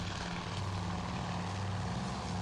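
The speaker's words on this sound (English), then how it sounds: "3 planes coming in, but only from one side" Three unescorted TBD propeller torpedo bombers approach in the naval strategy game Task Force Admiral, their engines a continuous droning hum with a low throb, steady and moderately loud throughout.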